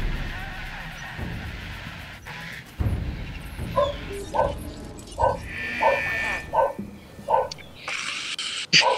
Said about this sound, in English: Noisy doggy.